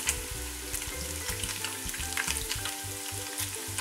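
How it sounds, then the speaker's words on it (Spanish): Tortilla taquitos frying in hot oil, a dense crackling sizzle with rapid bubbling pops over a low rhythmic rumble, close and continuous throughout. "El aceite ya está caliente, ahora voy a empezar a meter aquí mis taquitos, que los vamos a dorar por los dos lados."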